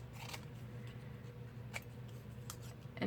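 Scissors snipping a small scrap off the edge of a fabric craft piece, a few faint crisp snips spread across a quiet room with a low steady hum beneath.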